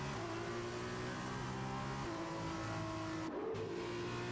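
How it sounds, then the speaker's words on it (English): A Formula 2 race car in the F1 2021 video game accelerating out of a corner at Mexico, a loud steady engine whine climbing in pitch with a brief gear shift. "And now Zach getting good acceleration coming out of turn 6"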